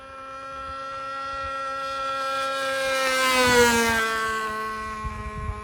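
Steady aircraft engine held at about half throttle, a sustained harmonic drone that swells slightly in the middle and stays loud and close throughout, with no talking.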